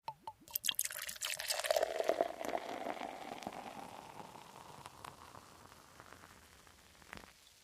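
Kona Golden Big Wave beer pours into a glass, opening with splashy clinks and a gushing fill that settles into a soft fizzing hiss of bubbles, quiet and close.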